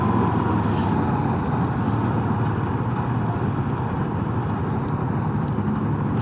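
Honda Super Cub C125 motorcycle underway, a steady engine drone mixed with road and wind rush, continuous and close with no distinct gear-change break, no talking.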